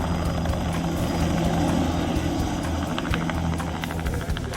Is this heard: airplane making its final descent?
yes